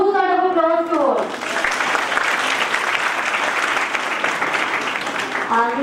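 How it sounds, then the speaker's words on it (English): An audience at an international college conference session breaks into loud sustained applause, steady clapping filling the room for several seconds after a speaking voice. "we would like to show our heartfelt gratitude by giving them a huge round of applause to all"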